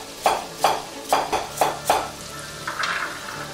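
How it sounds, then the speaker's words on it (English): A spoon scrapes and knocks against a pot while pork and veal meat are stirred, with five evenly spaced, close clacks followed by softer scraping and a faint sizzle. "Let's give the meat a stir."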